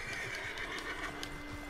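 A horse in Red Dead Redemption 2, a Tennessee Walker, gives a short, fairly quiet neigh with soft hoof clip-clop beneath it.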